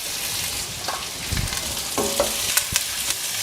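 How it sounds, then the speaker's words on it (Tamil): Shallots, garlic cloves and curry leaves sizzle steadily as they are sautéed in a pan for a Tamil tomato kootu, with a few close stirring scrapes and clinks over the constant frying hiss and no talking. "நல்லா வதக்கலாங்க, பச்சை வாசனை போகணும்"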